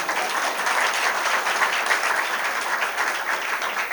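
Steady, dense audience applause fills a Hindi poetry recital at a kavi sammelan, many hands clapping together continuously at even loudness with no pauses.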